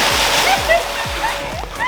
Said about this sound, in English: She's over here manning the pressure washer, getting everything cleaned up.